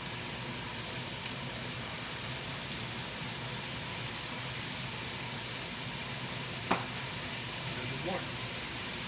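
A lot of onions frying in a pan for a mushroom soup, a soft steady sizzle and hiss with a couple of faint clinks.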